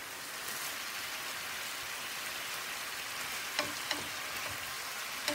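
Fish sizzles steadily in a hot pan for fried fish taquitos seasoned with garlic salt, a dense even crackle with a few sharper pops near the end and no voices.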